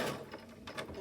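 Sewing machine back stitching over elastic on a fabric mask, a short burst of quick mechanical needle clatter up close, a few rapid strokes.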